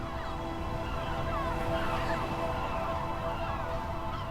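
Gulls shriek in a dense, overlapping chorus as they circle a sheer sea rock, the Roque Chico de Salmor, where they breed in a large colony. The calls are steady and moderately loud throughout, over a constant background rush.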